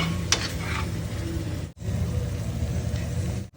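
Tomato puree stirred and sautéed in a hot pan, with a steady close sizzle and scraping spatula strokes, briefly cut off midway before resuming.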